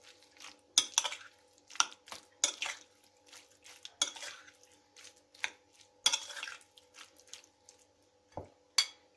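A spoon stirring chopped vegetables in a metal pot for a mixed summer vegetable dish, with sharp irregular clinks and scrapes against the pot, close and fairly quiet, with no talking.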